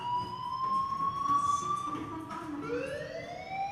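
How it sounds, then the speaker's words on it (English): A school fire alarm in Life is Strange sounds in sweeping, rising electronic tones, fairly loud and continuous across the few seconds, with no talking. "Hey, do you hear that fire alarm?"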